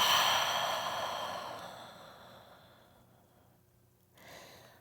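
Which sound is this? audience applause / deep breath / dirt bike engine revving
deep breath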